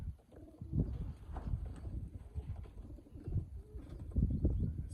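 A group of pigeons is released to fly on a windy day around noon, with soft cooing and irregular bursts of fluttering wingbeats close by.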